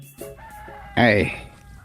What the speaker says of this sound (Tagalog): Taraok mo tagati manok.